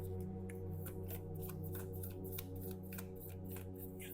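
Oracle cards being shuffled and handled, a series of quick close riffling flicks and soft papery slides, fairly quiet and with no talk.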